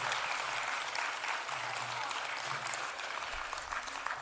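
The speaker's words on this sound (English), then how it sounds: "Can we please give them all a round of applause?" A large arena audience applauds at a day-long gathering, with dense, continuous clapping close and loud throughout, steady with no pause or visible talk.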